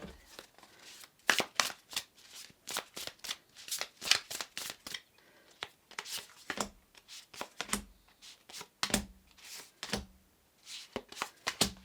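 A deck of tarot cards is shuffled close up, with quick bursts of riffling and card flicks repeating steadily in irregular clusters and no voices.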